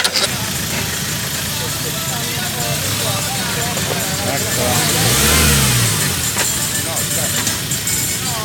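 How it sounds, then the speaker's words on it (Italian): A car's starter motor cranks and the engine catches and revs, rising to a loud surge midway before settling back, heard close alongside outdoor background noise at a winery in the Marche region of Italy. "Cos'era il rumore? È il motorino d'avviamento."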